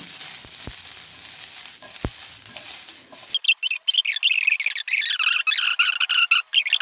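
Vegetables sautéing in olive oil in a pan, a steady sizzle that gives way to sharper, crackling bursts of frying as more vegetables go in, close and fairly loud.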